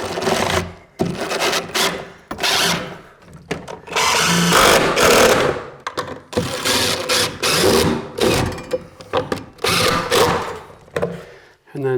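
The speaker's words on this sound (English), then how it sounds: "Gonna run a few construction screws." A power driver runs construction screws into a block during a church renovation, giving several whirring bursts of varying length separated by short pauses and thuds, close by, with a voice talking between them.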